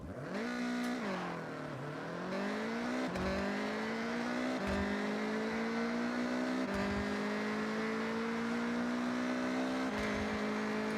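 Honda CRX engine in a racing video game, revving steadily with rising pitch and abrupt gear shifts, a continuous close engine drone with no talk.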